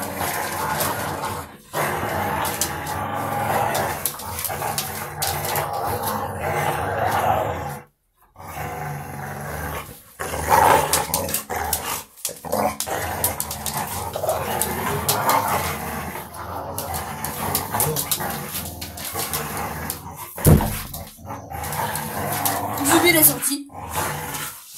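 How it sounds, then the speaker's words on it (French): Two big dogs growling, snarling and barking roughly at close range, loud and continuous for most of the stretch with brief pauses, while people talk over the commotion. "Les deux gros chiens"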